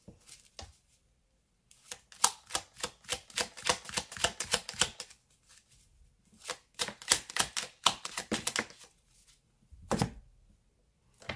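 A deck of cards is shuffled with rapid riffling bursts, separated by pauses, and ends in a single short flick as a card is drawn, close and crisp with no speech.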